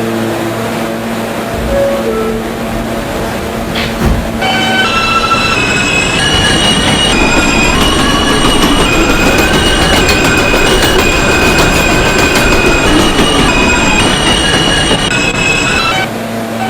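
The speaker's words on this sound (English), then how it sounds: "This is a 96th Street, 2nd Avenue bound Q Express train." A New York subway Q Express train bound for 96th Street and 2nd Avenue departs the station, wheels squealing in loud sustained tones over a building rumble and rhythmic clatter, close and continuous to the end.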